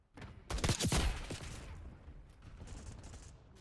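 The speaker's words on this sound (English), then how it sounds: "Frag out. Throwing frag." A frag grenade bursts in a shooter video game, a sharp loud blast followed by a crackling rumbling decay that fades over a few seconds.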